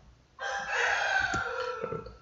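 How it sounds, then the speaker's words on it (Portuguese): A rooster crows once, close and loud, in a long sustained call that opens abruptly and trails off, heard on its own without talk. "O galo cantando"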